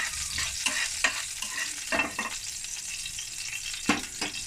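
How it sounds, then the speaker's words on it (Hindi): Chicken spring roll filling with chopped garlic sautés in a pan, giving a soft continuous sizzle broken by several short scraping stirs of a spatula, close up with no talking. "इसको 2 से 3 मिनट हम 1 से 2 मिनट हम सौते करेंगे।"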